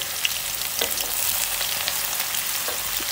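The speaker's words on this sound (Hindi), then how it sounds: "बघाड़ लगाने के बाद मैंने हरी प्याज डाल दी है इसको हल्की सी सौते करनी है" Green onions sauté in hot oil with a garlic tempering, a steady close crackling sizzle with soft stirring scrapes throughout and no talking.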